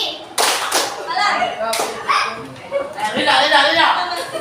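A classroom of students claps along in a call-and-response clapping game, with quick bursts of hand claps between chanted words from the teacher and class.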